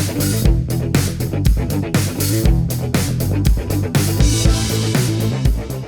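Funky bass line from the intro of a song, played with a full band in a steady groove, loud and continuous with no talking.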